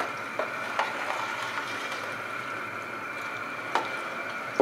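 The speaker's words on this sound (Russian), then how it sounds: "Периодически помешиваю." Peas for a carp and grass carp spod mix boil over high heat in a pot, with a steady bubbling hiss broken by a few sharp spoon scrapes against the pot; no one talks.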